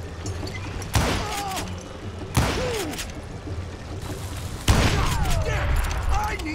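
Three loud gunshots from Call of Juarez Gunslinger crack out about a second or two apart. Each sharp blast is followed by a whistling ricochet-like tail over background battle noise.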